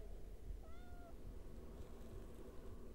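Mrs. Norris, Filch's cat in the Harry Potter and the Philosopher's Stone video game, gives a single faint, drawn-out meow against a steady low background hum.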